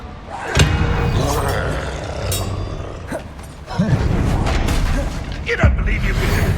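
A Bombarda spell blast in Hogwarts Legacy, set during a battle: three heavy booming impacts spread across the stretch, over a constant rumbling, crackling din of magical combat.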